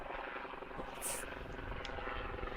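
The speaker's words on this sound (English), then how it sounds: "We have a helicopter flying above us." A helicopter flies low overhead at a softball game, its rotor and engine making a continuous loud, throbbing roar that holds steady throughout with no voices over it.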